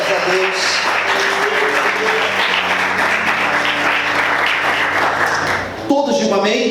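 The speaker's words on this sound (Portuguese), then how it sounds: "Vamos aplaudir o Senhor bem forte." A church congregation applauds loudly, dense sustained clapping with a voice over it, ending abruptly near the close.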